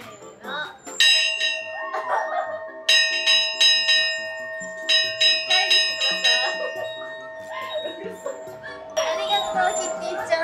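A bell at the Sanrio Puroland theme park in Japan rings in repeated clear metallic strikes that chime in bursts and linger, while people talk over and between the rings.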